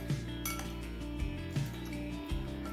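Fruit chaat being tossed in a bowl, with utensils clinking and scraping against the dish in light, irregular strokes close by.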